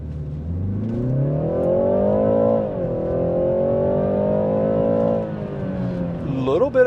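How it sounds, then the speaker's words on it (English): BMW 330i accelerating hard from a stop, engine note rising steadily in pitch through a gear change, heard from inside the car with a smooth, loud drone. "I'm going to try the acceleration from a stop."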